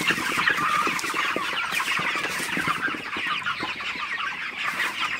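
Broiler chickens about 34 days old, around 2.5 kg each, on a poultry farm in Faridpur, a dense continuous chorus of clucking and chirping from many birds close by, with no talk.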